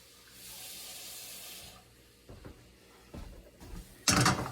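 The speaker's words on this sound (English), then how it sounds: "I am going to add just a bit of water to this" Water is poured from a tap into a pan of mushrooms on the stove, a faint steady hiss of running water followed by knocks and a brief loud splash at the end.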